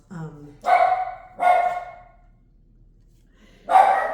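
A dog barks three times nearby, two quick barks, then a pause before a third, loud and clear with no talking.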